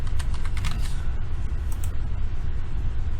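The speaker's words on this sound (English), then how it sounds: "We can type in ground," Rapid typing on a computer keyboard, a quick run of close, crisp key clicks over a steady low background hum.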